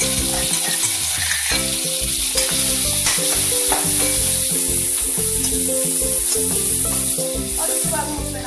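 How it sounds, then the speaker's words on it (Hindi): A paste of chili and garlic fries in a pan for samosa filling, a loud continuous sizzle with steady crackle and stirring close up throughout. "जो हमने पेस्ट बनाया हुआ है मिर्ची और लहसुन का उसे हम डाल देंगे, इसे हम थोड़ा सा पकने देंगे"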